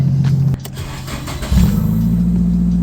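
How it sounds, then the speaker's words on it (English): A Nissan 180SX engine catches and settles into a rough, uneven idle, loud and close, with a brief dip before the steady low rumble returns and holds. "So there's that weird idle thing going on again."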